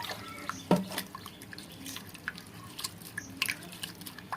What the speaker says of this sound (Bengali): এখন ভালো করে ধুয়ে পরিষ্কার করে নেব।